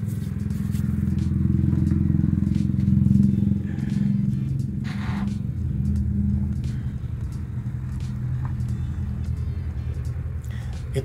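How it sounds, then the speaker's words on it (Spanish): A motorcycle passing outside a home radio recording setup, a loud low rumble that swells early and then fades slowly into the distance, with light clatter and household noises around it. "Esperemos que pase la moto"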